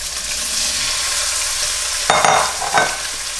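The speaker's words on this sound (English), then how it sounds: "that sizzling sounds is what you want to hear when you throw your meat in" Tilapia fillets hit hot oil in a pan and fry with a steady broadband sizzle, louder bursts of spitting crackle near the end, no voices.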